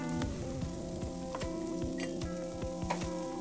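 Chopped beans and onions with coriander leaves fry steadily in a pan, a continuous close sizzle broken by several sharp clicks and scrapes of a spatula stirring the vegetables.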